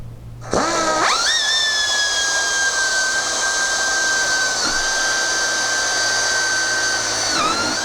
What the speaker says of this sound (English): the next step now is going to be to drill that into place as well